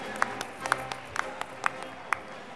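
Audience at a Prathibha Group anniversary event applauds, with sparse, sharp claps in a loose rhythm, faint and somewhat distant.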